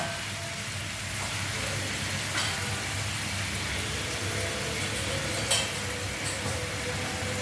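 Spices sautéing with elephant foot yam in a pan, a steady even sizzle like light rain that continues throughout, with an occasional faint clink of a utensil.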